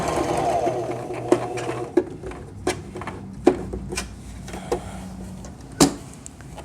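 A sewing machine stitches fabric for a clear see-through face mask, a steady close mechanical whir punctuated by regular clicks and taps as it stops and turns at corners, with a voice talking over it.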